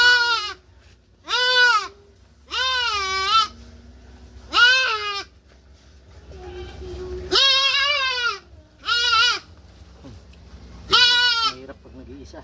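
A young buck goat bleats repeatedly, loud and close, in a series of wavering cries separated by short pauses, with faint background noise between them.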